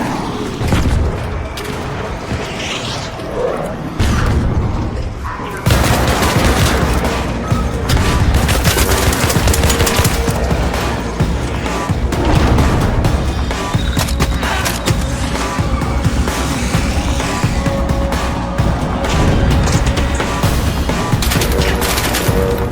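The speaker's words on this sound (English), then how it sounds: "He's shooting at me." Gunfire from another player in a raiding video game, a dense, loud stretch of shots and booms under game noise and music, getting heavier after the first few seconds, with no speech.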